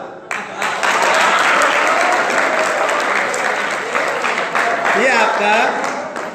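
Students in a Jain scripture class burst into loud applause, a thick, continuous roar of many hands clapping close by that holds steady before easing slightly, with a voice briefly audible near the end.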